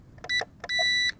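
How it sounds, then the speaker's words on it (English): Two electronic beeps from a folding drone's remote controller as its trim buttons return to center, a short tone followed by a longer sustained one, clear and close. "when you go back to the center of that trim, it will long beep"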